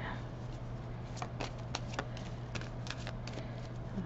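Soft, rapid riffling of cards, repeated in quick bursts over a steady low hum, close by with no talking.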